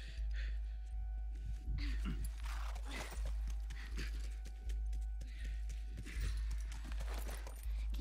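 Horse hooves clip-clopping in The Last of Us, a steady rhythmic trot with periodic swells, fairly close and continuous under a low ambient drone, with occasional faint voice-like sounds.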